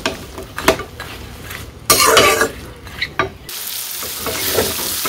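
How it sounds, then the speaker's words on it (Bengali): Pointed gourd frying in oil with salt and green chilies, stirred with clinking utensils against the pan; steady sizzle with scraping stirs and a louder burst of frying midway, no talk. "শুধু লবণ দিয়া আর কাঁচামরিচ দিয়া পটলগুলো ভাইজে নেই"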